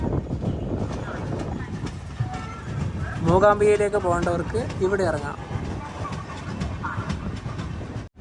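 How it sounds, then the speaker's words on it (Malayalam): A train rolls into Mookambika Road Byndoor railway station with a steady, broad rumble, while someone speaks over it near the middle. "മൂകാംബിക റോഡ് ബൈന്ദൂർ റെയിൽവേ സ്റ്റേഷനിലേക്ക് ഇതാ ട്രെയിൻ എത്തിക്കൊണ്ടിരിക്കുകയാണ്."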